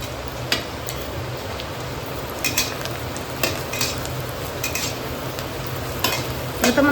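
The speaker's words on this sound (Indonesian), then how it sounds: "ini kita lanjut dulu goreng kerupuknya ya" Kerupuk crackers frying in a pan during heavy rain, with continuous sizzling and occasional stirring clinks, no talk.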